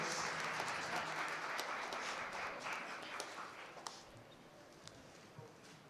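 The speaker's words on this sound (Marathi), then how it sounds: "जोरदार टाळ्या होऊ द्या." Loud, sustained applause from an audience after an engineering college student play, a dense wash of clapping that slowly fades near the end, heard from within the crowd.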